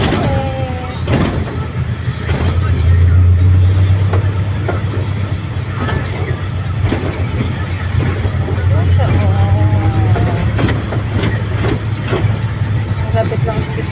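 Ride inside a moving jeepney, loud continuous engine and road rumble with rattling bodywork and occasional low hums of shifting gears, and people talking intermittently over the noise.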